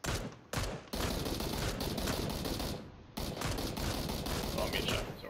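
Video game gunfire crackles in dense, loud bursts of rapid shots, with two short pauses between volleys, and a voice speaks faintly under it.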